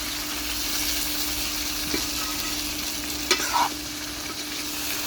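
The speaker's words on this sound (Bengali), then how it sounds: "এখন আমি আলু বেগুন ভাজছি" Potatoes and eggplant frying in hot oil with a constant close sizzle, broken by a few brief clinks and scrapes of stirring.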